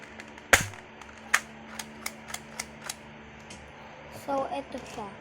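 A new toy gun is fired, giving one sharp loud snap followed by a quicker series of smaller clicks and pops spaced irregularly, with faint rustling and a brief burst of handling noise near the end.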